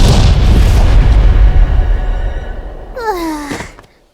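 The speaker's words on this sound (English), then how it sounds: "Explosion!" Cartoon explosion spell: a loud, low, rumbling boom that fills the first seconds and slowly fades, then a brief voiced gasp or sigh sliding downward near the end.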